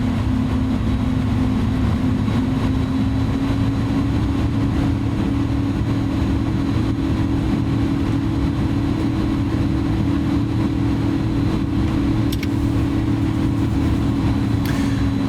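A simulated A310 auxiliary power unit spools up inside the cockpit, a steady loud whine that climbs gently in pitch over a constant low engine rumble, with no one speaking.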